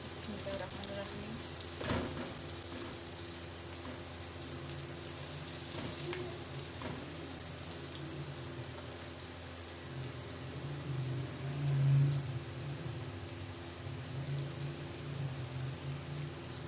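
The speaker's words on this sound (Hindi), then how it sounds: "अब मैंने इसको हल्का सा फ्राई कर लिया" Food sizzles and fries in a pan while cooking chana pulao, a steady crackling hiss with small pops, moderately close, continuing throughout with some faint background hum.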